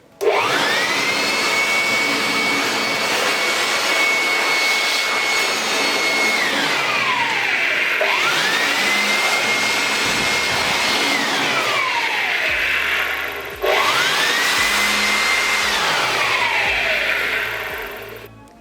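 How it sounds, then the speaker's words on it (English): A loud electric blower whirs continuously while blowing dust out of a PC cabinet, its pitch dipping and rising as it cycles off and back on three times. "first I'll start with blowing off some dust with the help of this electric blower"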